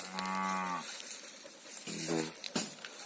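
Cows grazing near a rural homestead moo twice, a long sustained low call followed by a shorter one, moderately distant over steady outdoor background noise.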